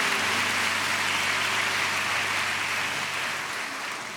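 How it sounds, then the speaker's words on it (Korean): A church congregation at a worship gathering gives a loud, dense round of applause that stays steady throughout and eases off slightly near the end, with no talking over it. "우리 하나님께 큰 영광과 감사의 박수 올려드립니다"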